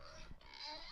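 A short, close pig snort, a rough nasal grunt heard once over a steady background hiss with no talk.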